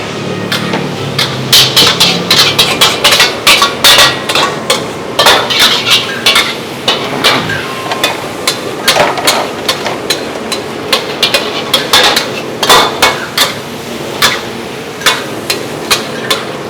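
A metal spatula scrapes and clanks in a pan as nasi goreng is stirred and fried at a street food stall. Sharp clinks repeat over a constant sizzle, loud and close.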